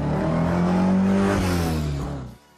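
A car pulls away, its engine loud and close with a rising rev that holds steady, then fades and cuts off abruptly near the end, with no talking.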